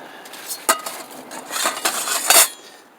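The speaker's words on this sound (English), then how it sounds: "Put the stove together." Camping stove being assembled outdoors: a series of sharp metallic clinks and clatters, irregular and close, with a cluster of knocks toward the end.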